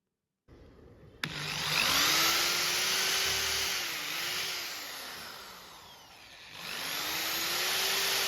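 A power drill drives screws into wood while a full-size wargaming table-topper is built; its motor whine rises as it spins up and holds steady, briefly stops, then revs up again for a second run, close and loud.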